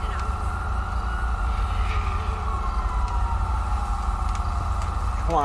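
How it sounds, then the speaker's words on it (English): An ambulance siren in GTA V wails steadily and loudly through the whole stretch, its tone holding high over a constant low engine rumble, with no pauses. "I got the ambulance arriving on scene."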